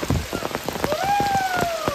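Heavy rain pours down during a mountain trek on the Khireshwar route to Harishchandragad, a dense, close, continuous patter drumming on a nearby surface, with a faint rising whistle-like tone partway through.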